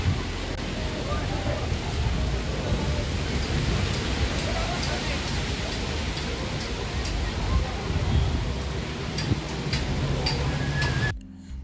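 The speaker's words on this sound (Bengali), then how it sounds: "প্রচণ্ড জোর হাওয়া দিচ্ছে" Strong stormy wind near Phewa Lake in Pokhara, a constant, close roaring rush that holds steady for over ten seconds before cutting off abruptly.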